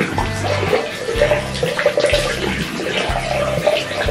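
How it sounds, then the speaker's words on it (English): Lukewarm water runs and splashes steadily while a face is rinsed at a sink during a skin care routine, a continuous close wash of water with no speech. "I will rinse this with water. I just use like lukewarm water."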